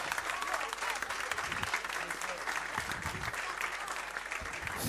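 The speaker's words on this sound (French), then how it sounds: "Applaudissements en anglais." Audience applause at a French-speaking gathering, a continuous, even wash of many hands clapping at a distance, with crowd murmur mixed underneath throughout.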